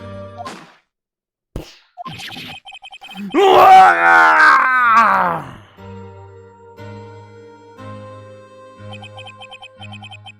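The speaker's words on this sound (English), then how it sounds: "scream I heard in the elevator 15 years ago" A loud, anguished scream from a Phoenix Wright: Ace Attorney video game, rising and wavering for about two seconds, set between short thumps and followed by quiet game music with a steady tone.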